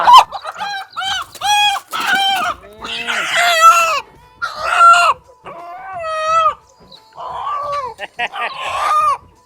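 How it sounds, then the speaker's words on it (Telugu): Country roosters and hens crow and cluck loudly in a close, busy chorus, calls overlapping in repeated bursts with brief pauses between. "ఇది ఒకటి మంచిగా ఎర్ర పుంజు తీయవా?"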